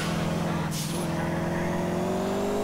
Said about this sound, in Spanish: Definitivamente este es uno de los coches que mejor se maniobran del GTA